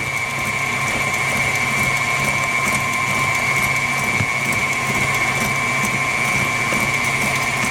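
An electric mixer beats 7 Up pound cake batter in a bowl, giving a steady, close mechanical whir with a constant whine that runs without pause.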